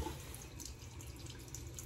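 Hot water runs from a bathroom tap into a sink in a steady, faint, hissing stream, heard alone and close by.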